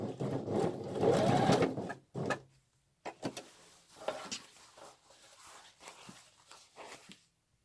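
A sewing machine stitches a pocket flap onto a single welt pocket for a coat or jacket, running in a loud burst at first, then in several shorter, fainter runs separated by pauses and light handling noises.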